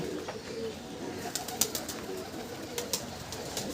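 A big, lightweight Kaldom pigeon coos softly and faintly in the background, low murmuring calls under a steady room hiss with a few sharp clicks and taps nearby.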